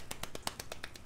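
Soft, polite golf clapping from a small group of friends celebrating a win at a Worms game: about nine light, evenly spaced claps at a steady rhythm, close and fairly quiet, with no talking.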